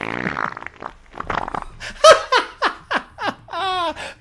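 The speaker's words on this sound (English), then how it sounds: "I want wet fart to be really fucking loud." A wet fart sound effect plays as a string of loud, sputtering bursts that grow more spaced and distinct toward the end, preceded by some laughing.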